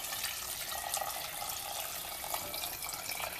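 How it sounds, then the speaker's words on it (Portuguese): Water pouring steadily into a large pot of feijoada to cover the beans, a continuous splashing rush that stays even and close throughout with no talking. "Então aqui nós vamos acrescentar a água agora,"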